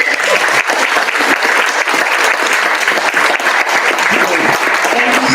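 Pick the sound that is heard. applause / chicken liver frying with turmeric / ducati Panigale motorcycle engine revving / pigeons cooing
applause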